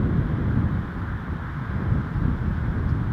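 Steady low rumbling wind buffets the microphone at Toronto Pearson Airport on a gray day, a continuous blustery roar with no voices.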